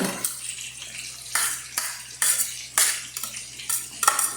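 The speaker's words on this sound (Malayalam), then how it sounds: "ആ കത്തി വെച്ച് മിക്സ് ചെയ്യാം" A knife works grated coconut in a bowl, mixing it with a series of close, distinct scraping and clinking strokes in a rough, uneven rhythm, each a short bright burst. A steady low hum runs underneath and no one speaks.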